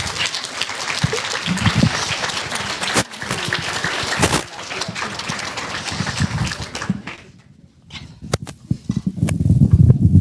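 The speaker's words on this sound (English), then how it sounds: "round of applause" A crowd at a retirement celebration claps steadily for several seconds, dipping briefly, then swelling again with cheering voices mixed in.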